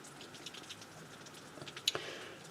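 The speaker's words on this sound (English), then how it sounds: "the misty rain is coming down." Light misty rain falls outdoors in a soft, faint patter of scattered drops, with one sharper nearby drip toward the end.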